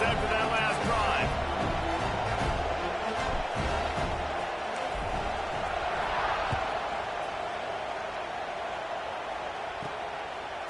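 Stadium crowd at a football game keeps up a steady, dense roar of cheering and chatter after a scoring drive, loud and continuous throughout with no single voice standing out.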